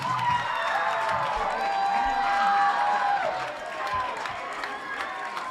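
Crowd cheering at a high school football game against Hi-Line, a broad roar of shouts and whoops from the stands that swells and then eases, with a nearby voice calling out over it.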